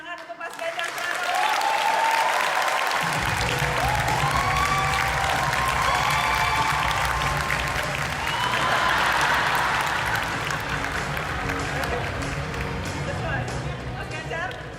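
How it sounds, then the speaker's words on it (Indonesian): A large audience at a Catatan Najwa event claps loudly for Ganjar Pranowo, with cheers and whoops rising over sustained, dense applause that continues throughout. "Kasih tepuk tangan untuk Mas Ganjar Pranowo"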